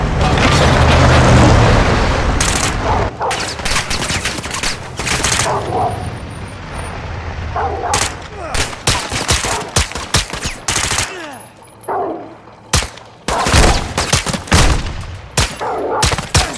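Gunfire and explosions in Call of Duty: Modern Warfare 2 (2022) at the border against a cartel patrol, loud rapid bursts and sharp booms repeating close by, with voices shouting in between.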